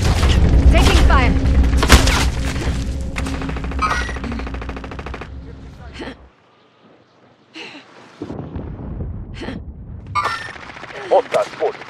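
Gunfire in a Call of Duty Warzone match, loud bursts of automatic weapons and heavy shots cracking for several seconds, dropping briefly to near silence before scattered shots and a voice return.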